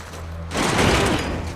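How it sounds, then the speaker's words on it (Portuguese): Burst of gunfire in The Last of Us Part II as Tommy opens fire, a sudden dense volley of overlapping shots after a quieter rumbling lead-in. "Esse que tá atirando é o Tommy"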